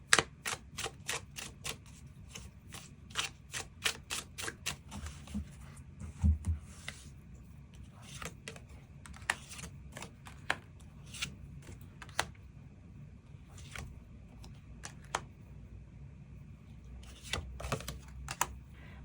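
Tarot cards being shuffled and drawn during a love reading, with soft rapid clicks and card flicks at first, then sparser light taps and slides against a quiet background.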